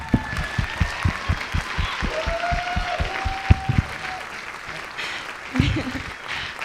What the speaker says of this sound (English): we all need to give a round of applause to Mr.